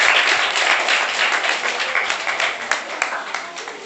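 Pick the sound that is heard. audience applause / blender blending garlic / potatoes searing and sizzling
audience applause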